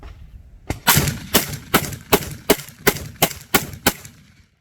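A Fostech Origin 12 short-barreled shotgun fitted with a SilencerCO Salvo suppressor fires buckshot, nine rapid suppressed booms in a steady rhythm emptying the magazine, loud and close with no talk.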